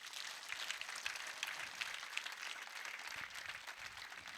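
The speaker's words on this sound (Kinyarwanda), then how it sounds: "Dukomere Imana amashyi" A church congregation at a Sunday ADEPR Segem service applauds in a steady, even wash of clapping that holds for several seconds, faint and distant, with no talking over it.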